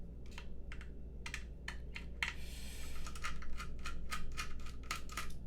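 Typing on a Synovia TKL mechanical keyboard: quick bursts of sharp, clacky keystrokes in an uneven rhythm, close and fairly quiet, with brief pauses between groups and no talking.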